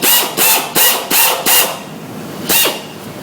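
Drill boring pilot holes for spin welds, a series of about six short whirring bursts, roughly evenly spaced, then a pause and one more burst, close and fairly loud.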